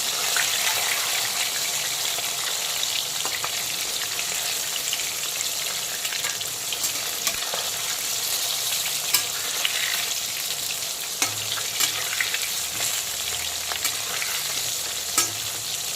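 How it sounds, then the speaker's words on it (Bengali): Rohu fish pieces fry in hot oil after being flipped, holding a loud, constant close sizzle and spatter with scattered sharp pops and crackles, and no one speaking. "এখন একইভাবে রুই মাছের উল্টো দিকটাকেও ভালো করে ভেজে নেব।"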